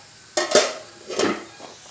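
Metal clatter of a lid set down on a dosa pan while cooking sabbasige soppu dosa with oil, two sharp close clanks followed by a softer scrape and a faint tap.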